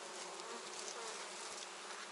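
Honey bees swarm in a strong colony inside an opened hive, a dense, even, continuous buzz that fills the whole clip at close range with no voices.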